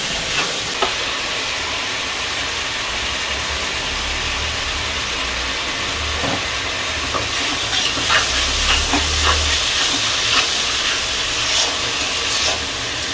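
Water heating with spices in a pan for dal made with bitter jute leaves produces a continuous hissing, simmering rush, fairly loud and even, with faint bubbling pops building toward the end.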